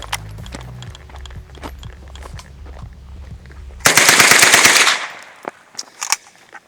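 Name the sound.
MP-40 submachine gun firing at White Claw cans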